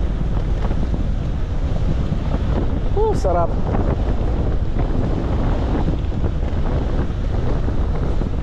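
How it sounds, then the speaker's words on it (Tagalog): Strong wind roars steadily into the microphone throughout, buffeting and rumbling, with a brief spoken word and a short high chirp partway through. "Yan, lakas ng hangin."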